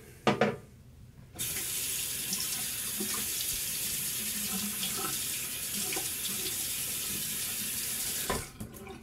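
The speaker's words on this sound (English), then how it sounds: "I'm gonna wet my face just just cause here" A bathroom tap runs steadily while someone wets their face before a wet shave, a continuous close rush of water with a few splashes at the start and the flow cutting off near the end.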